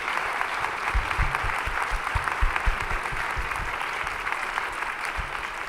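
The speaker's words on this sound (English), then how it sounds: "Can we just get a round of applause for that?" Audience applause at a Brooklyn Talks event with Dr. Jane Goodall, a sustained crowd clapping that holds steady for several seconds, with some sharper individual claps standing out near the front.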